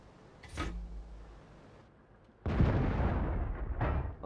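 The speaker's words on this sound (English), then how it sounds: "So as any 152mm derp cannon shooting HE, it has some degree of splash." A 152mm cannon on a T-49 light tank fires high-explosive shells in a tank video game: a brief sharp report early on, then a heavy, louder blast that rumbles on to the end.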